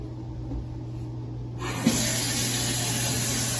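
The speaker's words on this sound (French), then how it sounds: "nous allons mettre un peu d'eau et nous allons bouillir ça" Water from a tap rushing into a pot with smoked turkey, starting abruptly partway through as a loud steady hiss and splash that continues to the end.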